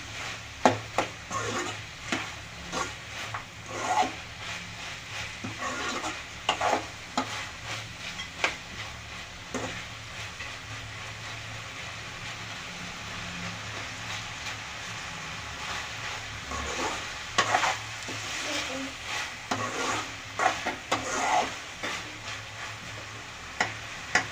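Tomato, onion, fennel seeds, poppy seeds and cashews are stirred and sautéed in a pan for a homemade chicken gravy, with a soft continuous sizzle broken by repeated scraping strokes of the spoon, close and without speech.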